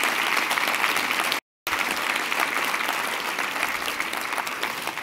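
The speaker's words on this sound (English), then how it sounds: "Give them a round of applause." An audience at the closing session of an event in Washington, D.C. applauds the event staff: a loud, sustained round of clapping from a full room, briefly cut out for a moment, then continuing evenly to the end.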